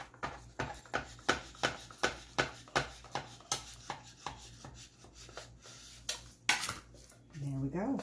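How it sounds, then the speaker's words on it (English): Small potatoes are cut in half one after another with a Close and Cut tool, giving a steady series of sharp, close chopping thuds on a board, with a few rattling clatters near the end and some talking in places. "You can cut your potatoes in half."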